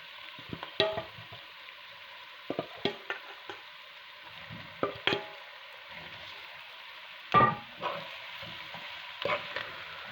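Garlic pork is stirred and fried in a pan, with scattered scraping and clanking stirring strokes over a faint, steady sizzle, close and fairly quiet.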